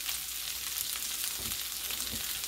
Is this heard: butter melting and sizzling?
yes